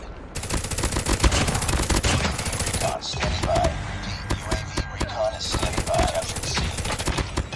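Automatic sentry gun in the Call of Duty Mobile video game fires sustained rapid bursts, loud and dense, with brief pauses and scattered sharper game effects between volleys.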